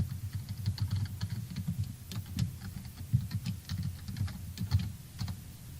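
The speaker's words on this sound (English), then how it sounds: "Log in with your username and password." Computer keyboard keys clatter in quick, uneven bursts as someone types a username and password, steady close-up tapping with short pauses, no voices.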